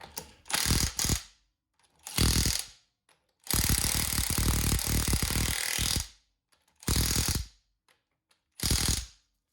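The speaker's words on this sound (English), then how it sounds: "we're gonna take the gun, we're gonna cinch the wheel on, and then we're gonna go and torque it." A Milwaukee cordless impact gun cinches a car wheel on in five sharp, loud bursts of rattling hammering, the longest lasting about two seconds, with silent gaps between them and no talk.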